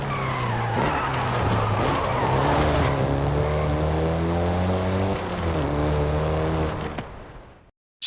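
A Volkswagen Golf GTI hot hatch in Forza Horizon 5 drives hard with a steady, loud engine drone that climbs through the gears and then cuts off abruptly.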